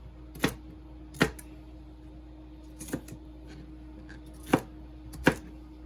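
Five sharp knife chops on a cutting board, spaced irregularly over a quiet background hum, close and distinct, as food is roughly chopped.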